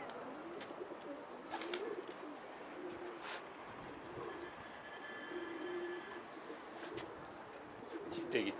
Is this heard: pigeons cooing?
yes